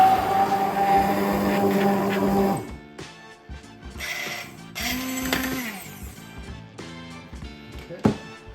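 A kitchen blender whirs loudly through fermented chilli sauce, a steady high motor roar that cuts off abruptly, followed by shorter bursts of blending with brief pauses between them.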